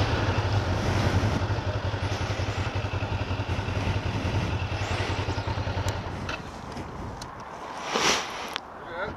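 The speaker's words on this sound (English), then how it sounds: "Alright, so he's warming up his bike" Kawasaki Ninja motorcycle warming up outdoors on a fall day, a loud steady idling engine close by that fades back after several seconds, leaving lighter clatter and brief bumps.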